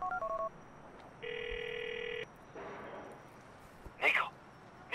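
A phone ringing while calling Roman in the video game GTA IV, with short dial beeps followed by one long electronic ring tone, then a voice speaking and a brief chirp, close and clear.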